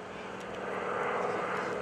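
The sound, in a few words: 450 horsepower Super Stearman biplane flying a photo pass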